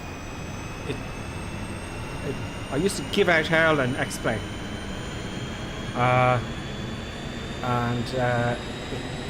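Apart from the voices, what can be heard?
Airbus APU starting up in Microsoft Flight Simulator video game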